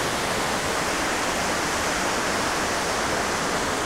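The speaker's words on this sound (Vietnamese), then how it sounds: "Đây suối Thanh Long nước cấm." Water of the Thanh Long stream on Nui Cam mountain rushes in a steady, loud, broadband wash that fills the whole clip without pause or voices.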